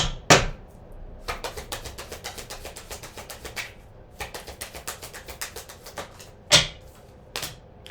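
A deck of tarot cards being shuffled, rapid riffling clicks in close, rhythmic runs broken by a few sharper taps, with no talking.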